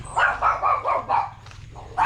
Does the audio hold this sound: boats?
no